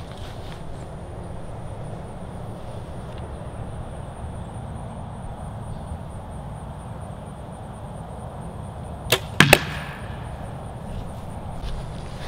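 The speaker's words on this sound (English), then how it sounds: "Now that was a thud." A 150-grain-tipped arrow with a weight tube strikes the target with a single sharp thud near the end of the clip, after a long stretch of quiet outdoor background hiss.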